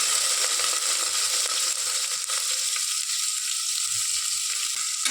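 Onion and green chili frying in a small amount of oil, a steady close sizzle with faint crackles and an occasional stir, no voices over it.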